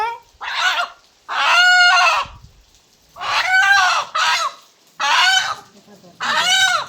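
Desi hens and a rooster cluck and call loudly and close by, in six separate outbursts with short quiet gaps between them.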